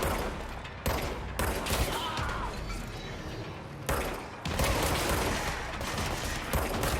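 Loud video game gunfire comes in sustained, rapid bursts with brief sharp gaps between volleys. Mechanical clatter sits underneath, and a voice speaks faintly at moments.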